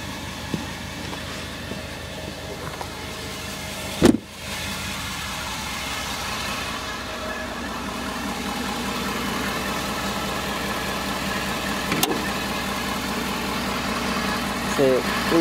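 A 2015 Ford F-350 Super Duty King Ranch with the 6.7L diesel idles under the open hood, giving a steady, continuous engine drone with a brief sharp thump near the start and a faint click later.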